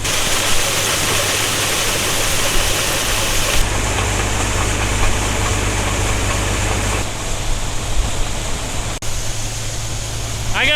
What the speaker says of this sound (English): It's an old motor.